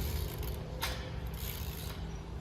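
A ratchet clicks in quick bursts while bolts are tightened on metal panels of a TSC Retriever Lodge expandable dog kennel, close and moderately loud, with no talking.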